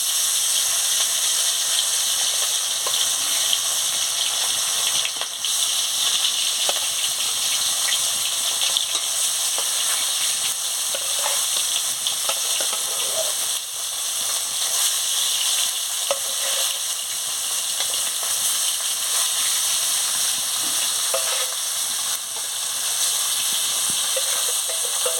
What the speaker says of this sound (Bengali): এবারে মাছটা ছেড়ে দিচ্ছি।